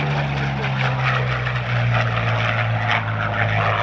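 A vintage warbird propeller aircraft flies overhead at an airshow, a loud, steady engine drone with a deep throbbing hum that holds without a break throughout.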